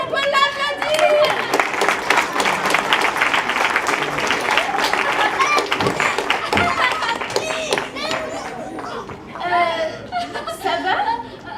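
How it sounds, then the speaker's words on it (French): An audience at a children's Christmas show applauds a child, a full round of clapping mixed with chuckles and light laughter, while voices talk over it. "Super, petit camarade, on peut l'applaudir!"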